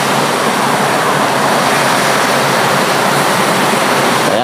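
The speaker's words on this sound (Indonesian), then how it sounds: "menikmati pemandangan air terjun." A hidden waterfall roars in a steady, unbroken wash of rushing water, close and loud throughout with no voices.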